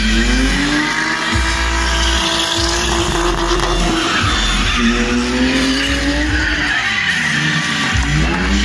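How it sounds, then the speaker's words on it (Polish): Stunt show cars at Energyland driving in reverse toward each other, loud engines revving and whining with sharp tire squeals and skids, continuous and close throughout. "tym razem samochody pojadą naprzeciwko siebie"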